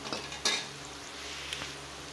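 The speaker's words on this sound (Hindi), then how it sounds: "अब मैं इसमें ये साबुत मसाला डालूंगी" Whole spices tumble into a pot of lightly browning onions for beef Kabuli pulao, giving a soft sizzle with a couple of sharp metallic clinks and scrapes from stirring.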